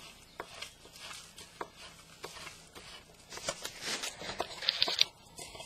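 A knife chops vegetable leaves on a board for chicken soup, a quiet, uneven run of crisp taps that grows quicker and denser toward the end.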